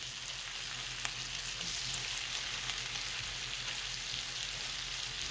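Shrimp frying in butter in a pan give a steady, close, even sizzle that crackles throughout without pause or talk.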